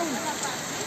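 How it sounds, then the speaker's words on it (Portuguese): Heavy rain in Cape Verde, a dense, continuous hiss of downpour that fills the whole moment at steady volume. "Chuva sempre bem-vinda, entende?"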